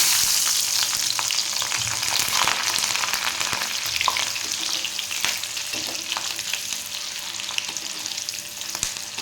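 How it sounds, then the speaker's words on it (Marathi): Green chillies deep-frying in hot oil for coriander pakoda make a steady, dense sizzle with crackling pops, loud and close, running continuously with no voices. "आता आपण हिरव्या मिरच्या तळून घेऊया"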